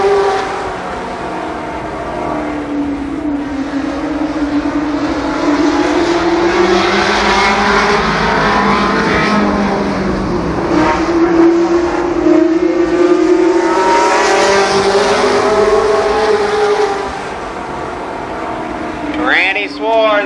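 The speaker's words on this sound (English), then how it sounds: "the limited sportsman second heat race" Limited sportsman race cars in a heat race at Columbus Motor Speedway roar past in a loud, sustained engine drone that rises and falls as they circle the track, with a commentator talking over it.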